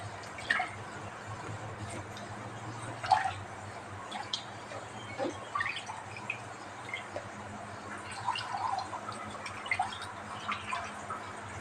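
Hands being washed under running water, a soft steady trickle with scattered drips and splashes, fairly faint and close, with no talk.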